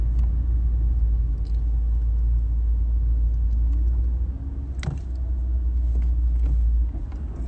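Busy street traffic with many cars, a heavy continuous low rumble of engines close by, with brief passing swishes and no one talking.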